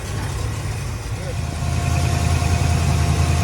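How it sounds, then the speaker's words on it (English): A 1982 Dodge Ramcharger, with a 318 or 360 V8, idles nearby in a steady low rumble that grows slightly louder partway through. "We may have to set the idle up just a fuzz."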